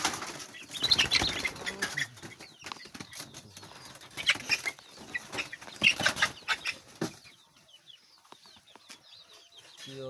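Chickens in hot weather clucking and squawking at close range with repeated bursts of wing flapping, busy and uneven throughout with quieter stretches toward the end.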